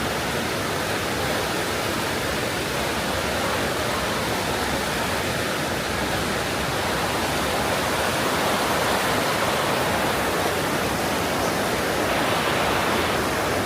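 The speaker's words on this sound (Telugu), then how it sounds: "ఆ పైనుంచి వస్తూనే ఉంటుంది ప్రవాహం" Yamuna river water cascading down near its source at Yamunotri, heard as a steady, dense broadband rush of falling water that stays continuous and fairly loud throughout, with no voices.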